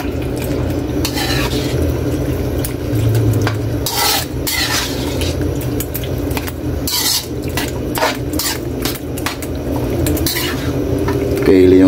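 A utensil stirs pork dinuguan in a metal cooking pot, loud repeated scraping and clattering strokes over a steady simmering sizzle.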